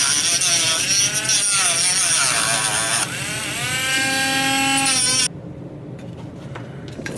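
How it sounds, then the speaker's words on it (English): A rectangular stop on an RC model part is ground right off, giving a close, steady high-pitched whine with wavering pitch for about five seconds before it cuts to a quieter background. "stop right down to the adjacent level next to it and grind it right off."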